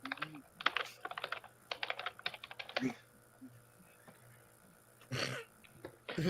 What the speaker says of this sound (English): I'm typing away here.